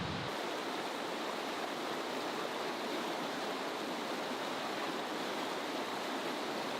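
A river rushes past rocks at the Birks of Aberfeldy in Perthshire, a dense, constant broadband wash of flowing water, loud and close, with no pauses or talking.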